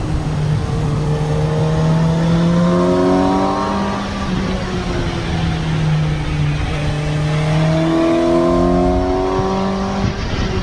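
A Suzuki GSX-S 750 motorcycle ridden fast uphill: its engine drones loud and close, with the pitch rising and falling through gear changes and throttle. No voices are heard.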